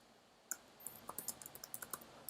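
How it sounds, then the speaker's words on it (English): Text is typed on a computer keyboard in a quiet room, a quick run of about a dozen light, crisp key clicks in an uneven rhythm, close up and alone. "Now I'm typing just the text"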